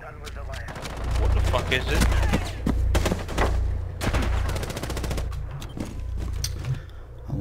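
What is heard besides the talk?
gunfire in the video game Rainbow Six Siege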